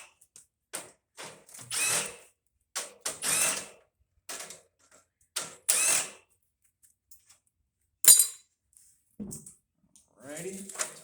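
A cordless power drill backs screws out of a scrap A-coil in short whirring bursts, a series of separate spins with pauses between, close and fairly loud, with someone speaking at the end.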